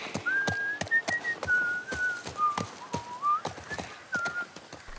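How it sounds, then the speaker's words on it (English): A person whistles a wandering melody outdoors, clear and close, while horse hooves clip-clop steadily nearby. "Your whistling's getting better"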